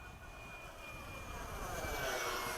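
An FMS 70mm F/A-18 EDF model jet flying at a park gives a rising ducted-fan whine that grows louder as it approaches, with a thin high tone over a rushing roar.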